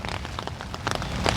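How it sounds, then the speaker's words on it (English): Rain falls steadily outdoors in a cemetery, a dense close patter of drops hitting the ground and an umbrella, continuous and fairly loud, with no voices. "It's raining out here"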